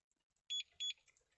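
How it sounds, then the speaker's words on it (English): A StarLine i96 immobiliser on a Range Rover Sport gives two short electronic bleeps in quick succession as it enters valet mode, clear and close against a quiet background. "Get 2 bleeps and now it's in valet mode."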